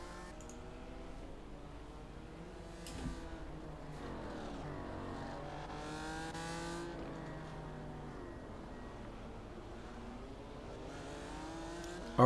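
A pack of race cars prepares to start at Laguna Seca in the iRacing sim, their engines droning and rising and falling together in a continuous moderate roar of overlapping revs.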